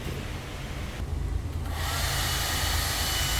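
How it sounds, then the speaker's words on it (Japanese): A hair dryer in a hot spring bathhouse roars loud and close, its airflow rising sharply partway through and then holding steady at full strength. "ドライヤーも"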